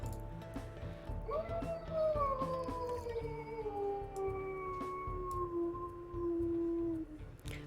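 A wolf pup's long, drawn-out howl in the video game WolfQuest Anniversary Edition, tonal and wavering as it slowly falls in pitch, heard fairly clearly over a low background hum.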